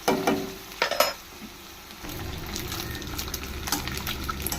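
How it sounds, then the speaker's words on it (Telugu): Food stirred and frying in a pan until its colour changes, with a steady close sizzle and a few sharp stirring scrapes near the start. "ఆ కలర్ చేంజ్ అయ్యేదాకా ఫ్రై చేసుకోవాలి"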